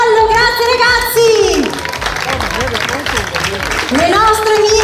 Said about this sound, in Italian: un applauso al nostro corpo di ballo